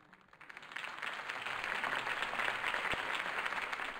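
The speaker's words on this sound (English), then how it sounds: "could have heard that applause" Applause from a crowd in Batman: The Telltale Series swells up after a quiet start and holds steady, a dense wash of many hands clapping.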